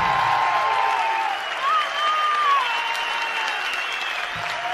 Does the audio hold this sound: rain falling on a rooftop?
no